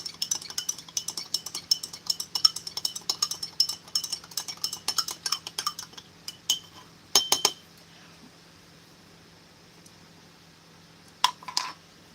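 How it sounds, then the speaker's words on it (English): A spoon stirs grape drink from a 1992 LRP ration packet, rapid rhythmic clinks against the container for several seconds, then a few isolated clinks after a pause, close and fairly quiet. "I'm going to give my grape drink another stir."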